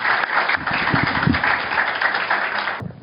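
Audience applause at a talk and book launch, a dense band of steady clapping that sounds band-limited and slightly muffled, continuing for about three seconds before cutting off.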